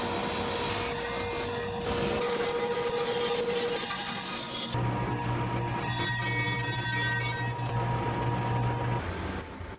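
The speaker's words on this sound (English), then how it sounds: "I dimension the Peruvian walnut strips that are inlaid into the ply before the miter fold dado cuts" Peruvian walnut strips being dimensioned on a drum sander, a steady close abrasive roar and wood rubbing with shifting tones that runs unbroken throughout.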